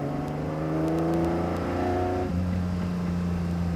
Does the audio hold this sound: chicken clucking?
no